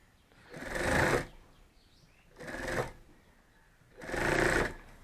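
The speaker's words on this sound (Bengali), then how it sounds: "আর এটা সেলাই করব।" A sewing machine stitches a bag in three separate runs of rapid whirring, each about a second long, with short quiet pauses between.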